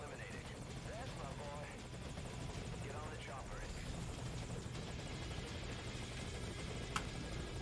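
Helicopter in the video game Metal Gear Solid V: Ground Zeroes, a steady whirring rotor drone with game noise underneath, continuous and fairly close, with a brief sharp tick near the end; voices talk quietly over it.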